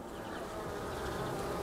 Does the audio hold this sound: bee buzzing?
yes